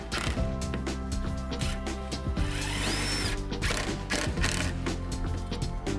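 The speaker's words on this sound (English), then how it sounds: "secure the buckout with 4-inch screws and windlock fasteners" Power drill driving 4-inch screws through a wooden window buck into an insulated concrete form opening, a steady mechanical whir with ratcheting bursts running close and loud throughout, no talk.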